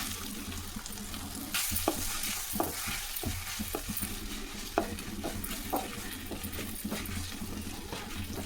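Grated raw mango with turmeric and curry leaves frying in a pan, a steady soft sizzle with repeated sharp stirring knocks and scrapes of a spoon throughout, fairly close and alone without talk.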